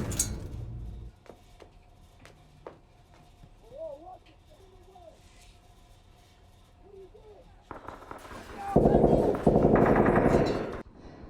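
Gunfire from a Breaking Bad television episode builds into a loud, dense burst of rapid automatic shots near the end, preceded by quieter sparse cracks and brief voices.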